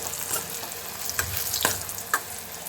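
Ivy gourd, a local country variety, fries to a brown crisp in a pan, giving a steady close sizzle with a few sharper crackles and spatula scrapes, with no talk.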